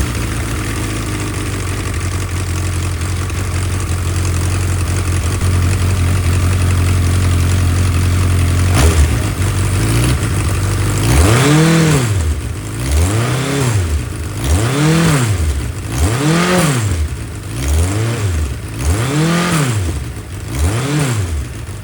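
Suzuki Hayabusa motorcycle engine idling steadily, then free revved in neutral in a series of regular blips, each rising and falling, loud and close with no voices.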